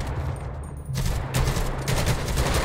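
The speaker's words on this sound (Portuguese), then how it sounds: "esse zumbi está atirando" Gunfire in GTA V zombie mode, a zombie shooting: dense sustained bursts of rapid shots with a steady low rumble, growing louder after the first second, no talk.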